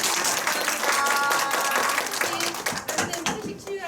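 A lecture audience in Korea claps loudly for a church deacon after a vegetarian diet talk, dense applause with a few voices and cheers mixed in, thinning toward the end.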